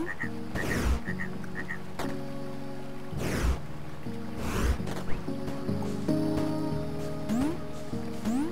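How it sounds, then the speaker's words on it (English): Repeated frog croaks from a small frog in the puzzle game Fez sound over a steady electronic music bed with soft chimes, several clear croak bursts spread across the scene. "It's a little frog."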